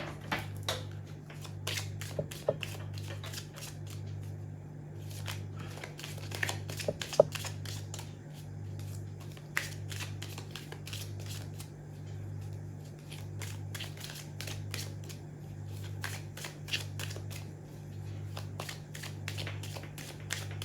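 A tarot deck is shuffled with steady papery flicks and clicks throughout, over a constant low electrical hum.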